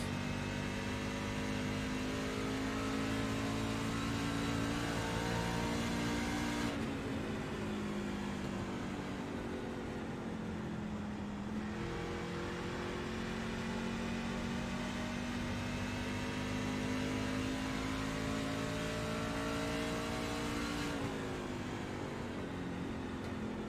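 A race truck engine from an extreme truck series at Phoenix revs hard with a steady high whine, drops sharply as it brakes into a corner, then climbs again back on the gas, twice over.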